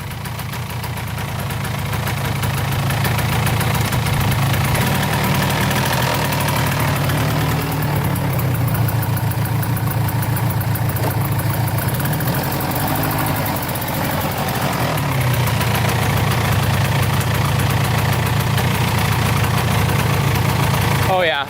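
A Polaris 400 4x4 ATV engine idles with a steady, close, low rumble while it is shifted into gear, including reverse, the tone dipping slightly now and then during the shifts.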